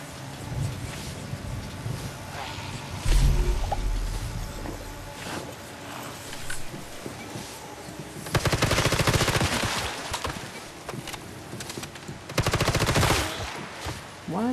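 Automatic weapon fire in the mobile survival shooter Once Human, coming in two dense sustained bursts of rapid shots, loud and close, with quieter game ambience and scattered effects between them.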